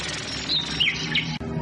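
A bird sings in a series of bright, high chirps and short whistled trills, fairly close and clear over a steady background wash.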